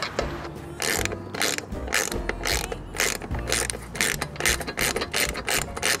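Ratchet wrench cranking in quick bursts as screws are driven in to fit a Front Runner roof rack onto a Land Rover Discovery 3, the clicking loud and close, alone with no talk.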